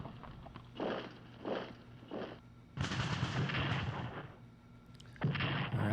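Artillery fire in the Strategic Command Russo-Japanese War strategy game comes as a few muffled booming thuds, then a longer rumbling barrage and another sharp report, quiet and with no voices.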